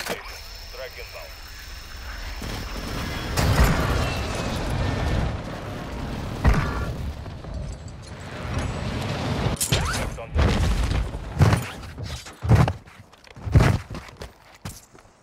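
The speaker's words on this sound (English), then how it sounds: "Target marked. Request fire mission. Copy that. Phoenix 2-3 is on station. Strike inbound." Airstrike explosions in the video game Call of Duty: Modern Warfare II: a run of heavy, booming blasts lands in the second half, with radio-style voices talking over the battlefield noise and mechanical clatter.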